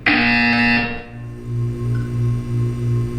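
A harsh electronic buzzer from the video game Portal 2 blares loudly for about a second, then cuts to a low pulsing hum of the test chamber.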